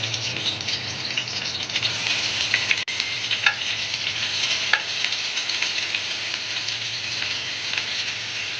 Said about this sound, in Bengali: তেল গরম হয়ে যাওয়ার পর এখানে পেঁয়াজ দিয়ে দিলাম